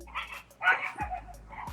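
Dogs outside bark in short, sharp yips and barks with a few whimpering notes, several quick calls at a moderate distance, with no talking.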